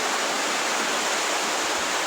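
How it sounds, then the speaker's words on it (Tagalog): Heavy rain pouring down hard at night onto a farm plot with crops, a steady dense broadband roar that fills the whole stretch, close and loud with no break. "Grabe ang ulan, ang lakas."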